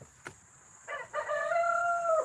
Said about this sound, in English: the chicken or the rooster, whatever the fuck it is, on cue is getting on his ass